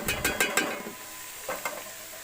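Garlic ginger paste sizzling in hot oil for a biryani, with a quick run of scraping stirs at the start, a brief pause of steady frying hiss, then two more stirring scrapes, close and fairly loud.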